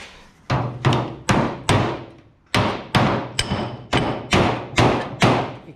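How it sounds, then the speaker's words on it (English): Hammer and dolly blows knocking up a rusted Datsun 240Z hood panel: about ten loud, close metallic thuds in an uneven rhythm, each ringing briefly and decaying, with no voices. "can start hammering it up with a hammer and dolly"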